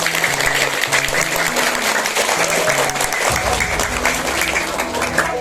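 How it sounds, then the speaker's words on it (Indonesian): A crowd at a talent show gives loud, continuous applause, with many hands clapping densely throughout while a low musical backing plays underneath. "Tepuk tangan semua."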